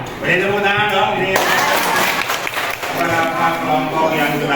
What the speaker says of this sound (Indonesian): Ya, beri tepuk tangan dong.